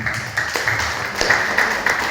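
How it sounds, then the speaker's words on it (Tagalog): A church audience gives a burst of loud, dense applause, close and continuous, with a few sharper individual claps and a faint voice mixed in. "Isang malakas na palakpak para sa Panginoon"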